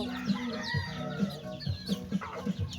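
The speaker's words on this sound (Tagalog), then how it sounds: "Ang mga manok." Young chickens and hens in a coop give a run of short, repeated clucks at close range, a quiet, steady flock chatter with no talking.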